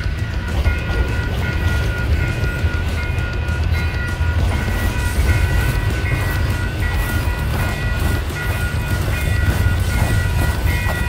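A train rolls slowly through a town, rumbling steadily past with a continuous heavy roll and faint clicking of wheels over rail joints, fairly close.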